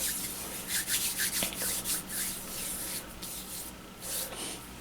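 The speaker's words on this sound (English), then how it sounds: "Now rub your hands together." Hands being rubbed together after a spritz of alcohol sanitizer: a close, steady swishing friction that continues for several seconds in soft repeated strokes, with no talking.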